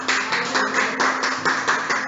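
A church congregation applauds together, a steady dense wash of many hands clapping at close-to-mid distance, pulsing slightly in rhythm over a low sustained hum, with no talk.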